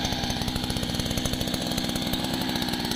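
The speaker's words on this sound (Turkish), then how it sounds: "Biraz gürültü oluyor. Kusura bakmayın ama motor yani bu." A small earth auger engine runs at steady high revs, a loud, buzzy two-stroke drone with a rapid rhythmic pulse, close and continuous with no talking.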